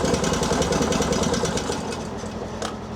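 A UTV-mounted snowblower engine runs steadily just after the choke is eased, giving a fairly loud, close, rapid pulsing chug that fades slightly near the end, with no talking.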